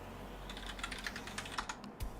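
Rapid typing on a computer keyboard, a quick run of close, crisp key clicks over faint room hum with no talking.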